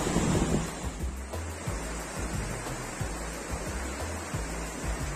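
A clear river rushes in a steady, broad hiss, with low thumps and wind buffeting the microphone throughout. No voices are heard.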